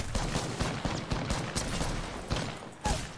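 Rapid bursts of gunfire from the video game Apex Legends crack in repeated sharp volleys, dense and fairly close, running through the whole stretch with little pause.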